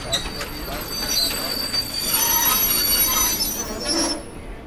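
A train pulls into Prantik station with wheels squealing in a sustained high metallic whine over a rolling rumble, loud and close throughout.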